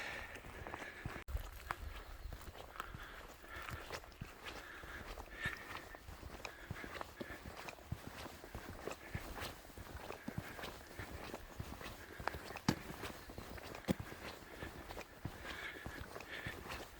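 Footsteps crunch along a road leading to the Edmonds Path trailhead on a hike toward Mt Eisenhower and Mt Pierce, a steady faint walking rhythm with light scuffs and no talk.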